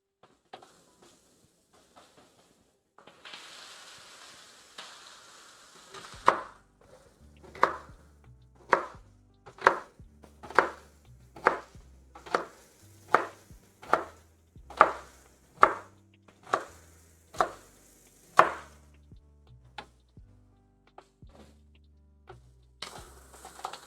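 A knife chops celery on a cutting board for an Irish stew, around a dozen crisp, evenly paced thuds up close, following a short rustle at the start.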